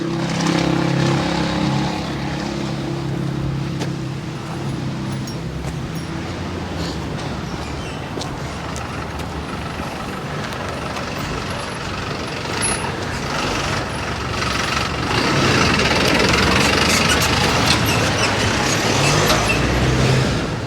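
Truck and street traffic at a zebra crossing in Sydney: a steady, loud roar of engines and passing vehicles that swells again near the end, with no clear voices.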